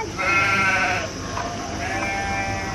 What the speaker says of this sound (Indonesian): Wih, domba-dombanya so cute.